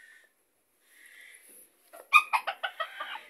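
A broody hen on a backyard flock gives a few soft low sounds, then a close burst of five or six rapid clucks rising and falling in loudness.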